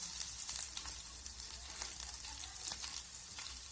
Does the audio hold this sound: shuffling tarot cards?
no